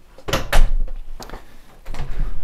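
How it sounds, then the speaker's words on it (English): A door opening in a house near a garage, with a few knocks and thuds of the handle and panel, then softer shuffling movement close to the microphone. "Open up the next door,"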